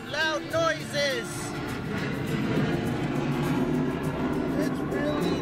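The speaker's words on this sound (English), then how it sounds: "That plane, loud noises." At an airshow, a brief voice is heard at first, then a loud airplane's broad, rushing roar builds and carries steadily through the rest.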